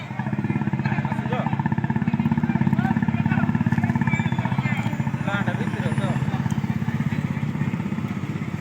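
A motorcycle engine drones steadily at close range with a rapid pulsing rumble, recorded on a highway during a drivers' strike, while someone talks over it.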